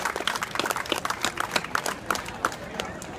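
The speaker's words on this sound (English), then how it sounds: "Give them a big hand." Crowd at a charity Walk to End Alzheimer's in Coney Island, Brooklyn, clapping for the top fundraising teams: scattered outdoor applause heard from a distance, fairly faint, with talk mixed in.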